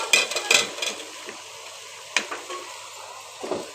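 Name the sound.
beans and potatoes added to frying chicken in pan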